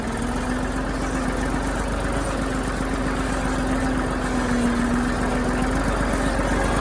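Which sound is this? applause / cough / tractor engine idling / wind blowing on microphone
tractor engine idling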